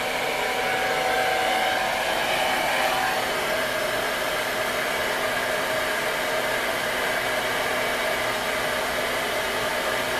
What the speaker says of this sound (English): by the time we get to the top sections, they're almost already dry, and we just kind of have to go in there and smooth them out